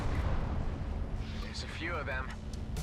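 Automated factory defense turrets fire on the player's ship in the space shooter EVERSPACE: Encounters, a steady rumble of low booming shots and bursts under someone speaking, with brief zapping sweeps near the end.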